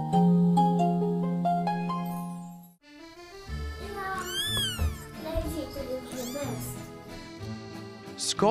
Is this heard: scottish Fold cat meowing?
yes